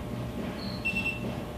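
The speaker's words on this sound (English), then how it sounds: "the photographers need to be listening for the beep" A studio strobe flash unit gives a short ready beep after its test button is pressed: a thin, faint electronic tone that rises through a couple of pitches over a low room rumble.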